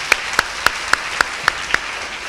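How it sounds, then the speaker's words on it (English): Applause at a pharmacy oath-taking ceremony for first-year BPharm students, heard here as evenly spaced single claps, about seven in a steady rhythm over a quiet background. "give yourself a big round of applause"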